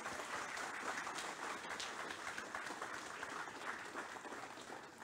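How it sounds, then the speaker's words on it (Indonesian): An audience applauding after the official opening of the Masif 2023 corporate event, marked by a symbolic drum strike; steady, dense, fairly distant clapping throughout with no voices. "Mohon berikan aplaus yang meriah."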